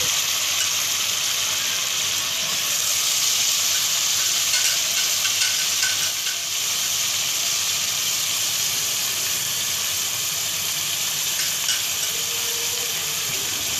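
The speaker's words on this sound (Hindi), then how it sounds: "उसके बाद डाल देना है कीमा।" Minced meat for aloo keema fries in a pan with a loud, steady broadband sizzle that holds evenly for the whole stretch, close and continuous with no talking.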